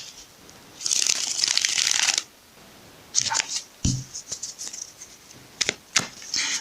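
Tarot cards are shuffled in a few bursts, a crisp riffling swish followed by shorter flicks and taps, close and fairly quiet, with no talking.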